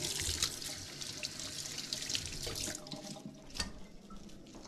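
Lemongrass being washed under a running kitchen tap, a steady close splash and gush of water over the stalks that eases slightly near the end, with no voices.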